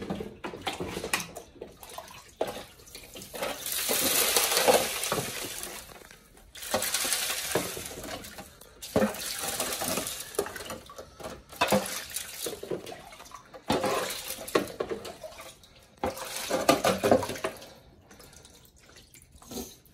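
Water rinsing out a GEO mini sluice box in a garage, a steady close splashing and pouring with bursts that rise and fall, trickles and drips between them.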